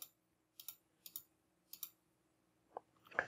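Sharp computer mouse clicks through a Git installer on Windows come in paired bursts spaced about half a second apart, quiet and close, with no one speaking.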